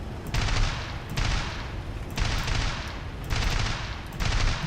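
Bursts of 7.92 mm machine-gun fire from a Bf 109E-1 heard from the cockpit in War Thunder, four or five long rattling volleys in a row over a constant engine drone, loud and close.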